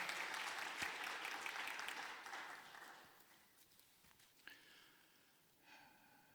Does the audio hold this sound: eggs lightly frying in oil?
no